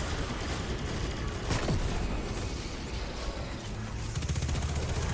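Rapid SMG gunfire in Destiny 2 blasts as a dense, continuous stream of shots at close range, loud and unbroken, mixed with game effects and no talk.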